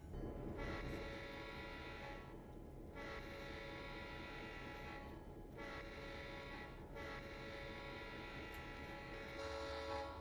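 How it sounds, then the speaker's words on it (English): A locomotive rolls slowly through a rail crossover on Sherman Hill in Train Simulator 2021, with a steady rumbling roar and a rhythmic, repeated clickety-clack of wheels over the joints, close and continuous. "Running through that crossover, very slow rate of speed. Man, that clickety-clack just sounds super good."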